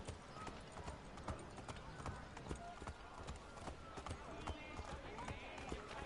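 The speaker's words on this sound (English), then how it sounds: "I'm on a horse." Horse hooves clip-clop at a steady galloping rhythm in the Assassin's Creed 3 video game, up close and continuous, with a game soundtrack and voices talking underneath.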